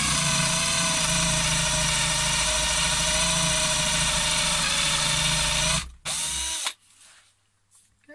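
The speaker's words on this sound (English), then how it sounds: "We're on speed 2 and we are with a 22 mil flat wood bit." A Worx WX170 20V drill driver on speed 2 bores into wood with an old 22 mm flat bit, giving a loud, steady motor whine for about six seconds before it spins down and stops.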